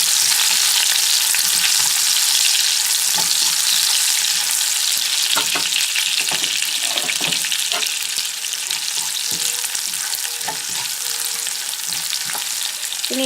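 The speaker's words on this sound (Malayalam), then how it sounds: "പച്ചമുളക് ഇട്ട് കൊടുത്തിട്ട് ജസ്റ്റ് ലൈറ്റായിട്ടൊന്ന് വറുത്തെടുക്കാം" Green chilies and ginger lightly frying in oil in a pan for a Kerala-style instant lemon pickle, a steady loud sizzle with occasional stirring clicks and scrapes throughout.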